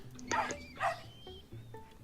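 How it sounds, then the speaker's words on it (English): Snowy the dog barks in the video game Tintin: The Secret of the Unicorn, two or three short yips in quick succession over steady game music, close and moderately loud. "use square to bark at the rats"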